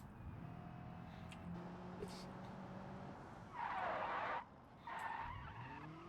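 Tire skid from a car in the BeamNG driving game, with one loud squealing skid burst in the middle followed by a shorter second skid, over steady engine and road noise.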